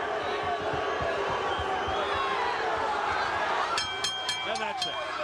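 Arena crowd at a world super featherweight boxing bout between Acelino Freitas and Daniel Attah, a steady murmur of mixed reaction from the stands with scattered shouts and whistles, heard beneath a commentator's voice.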